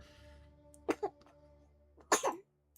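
A person nearby makes two sharp, explosive sneeze-like bursts about a second apart in a quiet indoor room, each with a quick double pulse, followed by silence.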